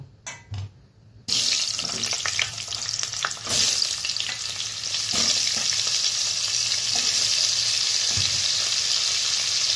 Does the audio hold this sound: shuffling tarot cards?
no